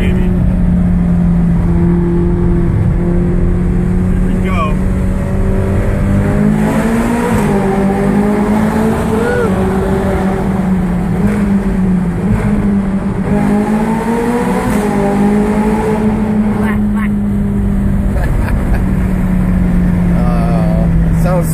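Ferrari engine roaring and revving through a tunnel near Long Beach airport, loud and sustained with rising and falling pitch sweeps, reverberant, with voices talking faintly underneath.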